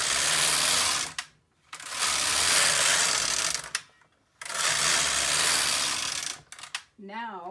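A Brother KX 350 or LK 150 knitting machine knits rows of a bubble beanie hat: two long, loud broadband carriage passes of whirring, ratcheting mechanism, each ending in clicks and a brief pause, with a short squeak at the end.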